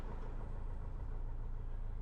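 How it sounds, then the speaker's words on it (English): A Piper PA-28 Cadet aircraft engine runs on the ground during a run-up, a steady low, droning rumble that holds at a constant level, with no talking. "Doing a proper engine run-up, like I'm doing here, is just as important."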